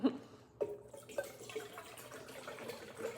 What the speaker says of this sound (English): Gunner, let me get some water in our pot